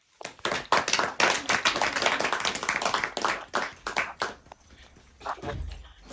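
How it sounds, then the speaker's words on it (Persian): Applause breaks out at a family Eid celebration in Afghanistan as a sister is welcomed to the front to read her story, starting as scattered individual claps, swelling into brisk clapping, then tapering to a few isolated claps. "الی آمدنشان تشویق."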